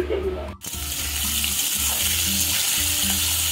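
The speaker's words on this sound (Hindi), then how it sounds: "चलिए आलू फ्राई कर रहे हैं" Potatoes fry in a pan in a home kitchen with a loud, continuous close sizzle. A brief dropout comes near the start, then a steady hiss with a low rhythmic hum underneath.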